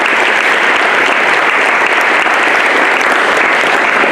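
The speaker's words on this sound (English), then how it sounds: "Let's offer a nice round of applause for those folks." An audience at a collegiate recognition ceremony claps loudly and continuously, a thick, even wash of applause from start to finish.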